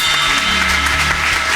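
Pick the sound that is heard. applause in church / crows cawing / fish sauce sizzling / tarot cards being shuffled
applause in church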